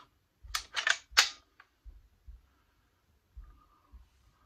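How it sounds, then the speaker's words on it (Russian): Metal bolt of an SKS carbine being fitted back into the receiver during reassembly, a quiet close cluster of sharp metallic clicks and slides followed by a few soft knocks and handling sounds. "вставляется затвор"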